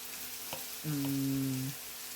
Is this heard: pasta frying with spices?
yes